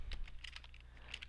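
Soft, quick clicks of fingers typing a short command on a computer keyboard, heard up close but quietly, with no talking.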